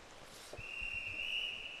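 A referee's whistle blows at a women's 100m backstroke B final swimming race in an indoor pool, one long steady blast that carries on under faint hall ambience with no talk.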